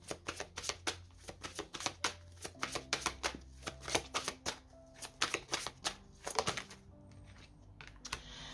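Tarot cards being handled and shuffled close up, with a run of crisp, rapid riffling clicks and slaps in irregular bursts separated by short pauses, quiet and free of talking.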